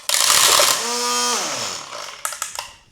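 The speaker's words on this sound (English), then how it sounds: "Spin the head to trim it to length" A string trimmer head revs briefly, a loud broadband whine with a pitch that dips and climbs back as the motor spins the freshly reloaded line, followed by a few short clicks and knocks as it winds down.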